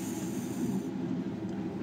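A Blackpool Balloon Tram runs in Train Simulator, giving a continuous low rolling rumble with a smooth mechanical drone, steady and fairly close, with no talking over it.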